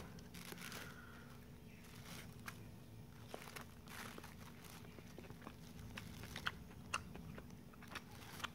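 Crunchy fried and steamed dough snack from a market being chewed close up, a steady run of crisp bites and mouth crunches with scattered sharp clicks, no talking.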